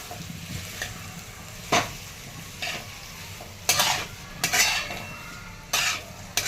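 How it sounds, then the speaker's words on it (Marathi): A spoon stirring boiled potatoes frying with green chilies in a pan for a dry potato dish, soft sizzling under repeated scraping stirs and clinks of the utensil against the pan. "आता यामध्ये बटाटा कट करून घेतलेलं उकडलेला"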